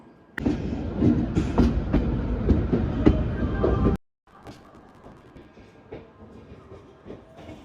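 A passenger train rolls along the rails toward a station, a steady loud rumble with rhythmic clacks for about four seconds, then an abrupt drop to a softer, quieter clatter.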